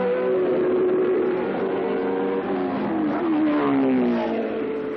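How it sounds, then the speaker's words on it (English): A yellow Renault turbo Formula One car passes at the end of the opening lap, its engine note rising and falling as it sweeps by at moderate distance, loud and continuous. "the lead car arrived at the end of the first lap, liveried in Renault yellow rather than Ferrari red"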